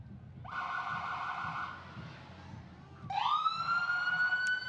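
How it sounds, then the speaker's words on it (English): An emergency ambulance siren passing in a Christmas parade, a wailing tone that rises and falls, then shifts into a sharper rising whoop partway through, moderately close and without talk. "Pafford EMS emergency ambulance services are now riding through."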